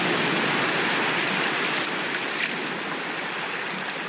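Ocean waves in the survival video game Raft roll on without pause, a dense, loud wash of surf noise that fills the scene with no talk.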